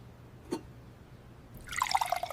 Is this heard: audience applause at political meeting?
no